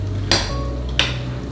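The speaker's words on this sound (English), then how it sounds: "Toss our cauliflower like that" Buffalo cauliflower, deep-fried and coated in sauce, being tossed in a bowl, with two sharp scraping clatters about half a second apart over a steady low kitchen hum.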